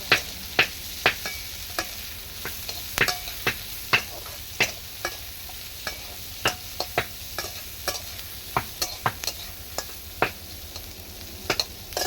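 Sliced onions and slit chilies fry in oil with nigella seeds while a spatula stirs them. Sharp scraping clicks repeat unevenly over a soft, steady sizzle, close up, with no voices.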